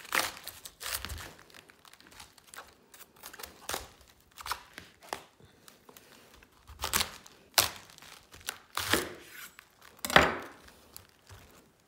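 A knife chops and crunches through a cabbage on a cutting board with a series of sharp, close crisp cuts and crackling leaf sounds, irregular in rhythm, with no talking.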